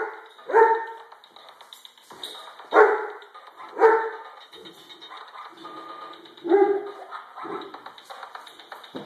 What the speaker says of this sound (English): I know y'all hear the dog barking in the background.